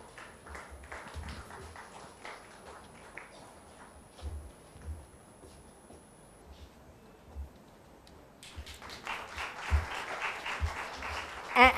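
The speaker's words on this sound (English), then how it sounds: "A loud round of applause, ladies and gentlemen." Audience applause at a seminar in Mumbai, starting as scattered, fairly faint clapping and swelling into a fuller, denser round near the end.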